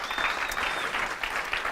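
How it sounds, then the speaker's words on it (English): A live crowd at a business Q&A event gives steady, moderately loud applause, an even patter of many hands clapping without pause. "Give me a round of applause."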